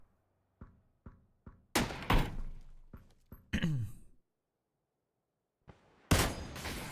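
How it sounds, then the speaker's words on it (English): Gunshots in a PUBG match: several distant reports, then loud, sharp close shots with echoing tails, spaced irregularly with quiet gaps between them. "Getting a shot through there, just missing Sharky."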